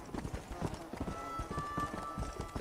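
Rapid horse hooves gallop in the Red Dead Redemption: Undead Nightmare video game as a rider runs over zombies, a steady clip-clop rhythm close and loud with game ambience and a faint tonal hum behind.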